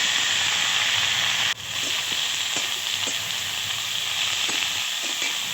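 Radish pieces drop into a hot pan for a vegetarian curry with potato and sponge gourd, setting off a steady, close sizzle and hiss with a few soft stirring knocks throughout.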